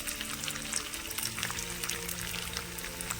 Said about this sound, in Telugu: జాగ్రత్తగా వేయించుకుందాం.